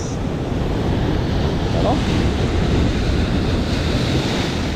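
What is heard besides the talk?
strong ocean waves with wind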